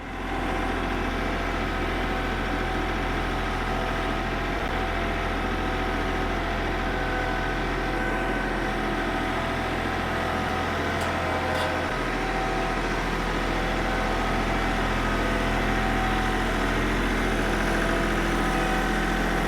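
A farm tractor idles with a steady, loud low-pitched engine drone that holds constant for the whole stretch, with a slight shift in the low rumble partway through and no voices.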